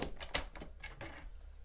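Scissors snip through paper while patchwork square cards are being made, giving a quick run of crisp, close cuts with brief rustles between them.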